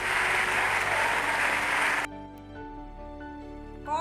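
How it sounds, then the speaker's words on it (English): Classroom of students clapping together in a loud, dense burst of applause that stops abruptly halfway through, leaving quiet room tone behind. "Clap for Smita."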